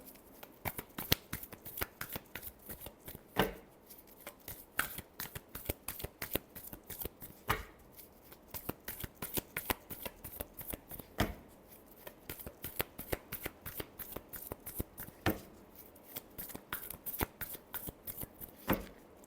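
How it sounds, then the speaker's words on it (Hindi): Tarot cards are shuffled by hand up close in repeated quick bursts of crisp riffling and slapping, with short pauses between each round of shuffling. "Last shuffle."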